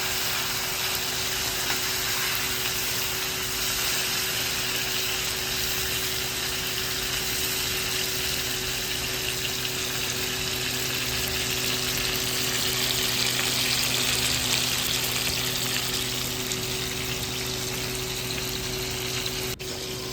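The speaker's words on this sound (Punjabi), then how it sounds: "ਨਾਲ ਹੀ ਆਪਾਂ ਪਾ ਦੇਣੇ ਨੇ ਟਮਾਟਰ ਇਹਨਾਂ ਨੂੰ ਕੜਛੀ ਦੇ ਨਾਲ ਹਿਲਾਉਣਾ" Chopped tomatoes frying in a pan for a tinda sabzi, stirred with a ladle, giving a steady close sizzle with faint scraping and a constant low hum in the background.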